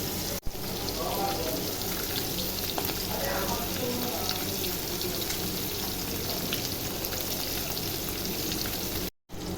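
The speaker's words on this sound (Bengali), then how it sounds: "এবার মাছটা একে একে ভেজে নেব" Katla fish pieces rubbed with a little turmeric fry in hot oil, giving a steady, dense sizzle that runs on with little change, broken only by two short dropouts.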